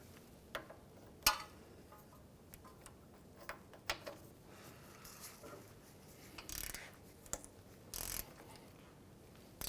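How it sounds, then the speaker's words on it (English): Torque wrench tightening the ball joint pinch bolt on a 2015-2019 Hyundai Sonata lower control arm, giving quiet scattered ratchet clicks and metallic ticks with a couple of sharper knocks, no speech. "On our ball joint pinch bolt, we're going to do 82 foot-pounds."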